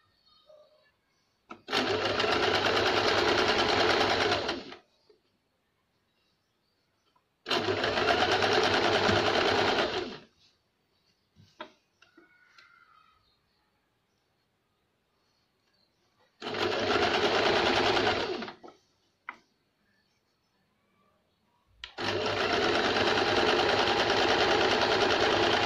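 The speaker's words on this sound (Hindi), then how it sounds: "यहाँ से सिलाई लगाएंगे।" An electric sewing machine stitching blouse fabric runs in four steady, close bursts of several seconds each, a loud whirring buzz separated by quiet pauses with faint handling of cloth.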